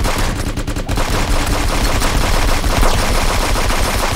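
Rapid sustained turret gunfire in a multiplayer video game, a loud continuous automatic burst that fills the whole stretch without pause.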